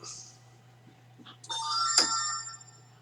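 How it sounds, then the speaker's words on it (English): A telephone rings with a short, bright electronic ringtone near the middle, over a quiet room with a low steady hum. "That was a phone"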